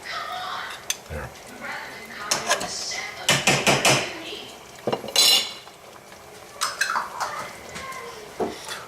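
Curry with fresh chilies stirred in a pan with a metal utensil, giving irregular scraping and sharp clinks against the pan, close and fairly clear, with brief pauses between strokes.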